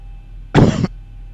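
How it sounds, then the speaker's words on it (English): A single short, loud cough bursts out close to the microphone and stops, with faint steady hum before and after. "sorry about that cough there."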